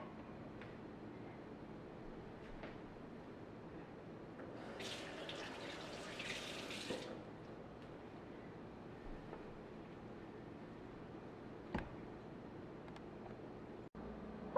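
A tap runs for about two seconds as hands are washed at a sink, faint against a quiet room hum, followed by a few soft clicks.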